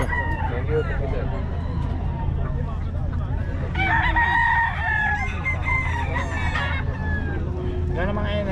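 Chickens cluck and roosters crow loudly and close at a busy poultry market where hens are sold, with overlapping calls and a low crowd murmur beneath.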